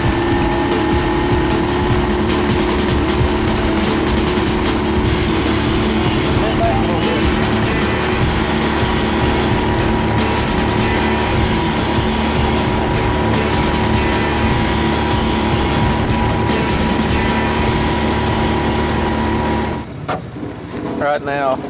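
Bowfishing boats racing side by side, outboard motors droning loud and steady at close range under a shouted voice, before the engines cut out abruptly near the end.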